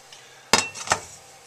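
A metal frying pan clanks down onto a stovetop burner, two quick bright knocks in an otherwise quiet room.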